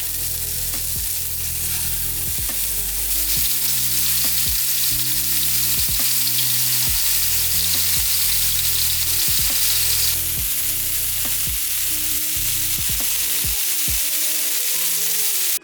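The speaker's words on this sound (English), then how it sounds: "We're gonna grab ourselves a non-stick pan and put about 1 tablespoon of oil down before we start to cook off our lamb kofte." Lamb kofte sizzling steadily in a tablespoon of oil in a non-stick pan over medium-high heat, with a dense, continuous crackle and occasional pops and stirring scrapes throughout.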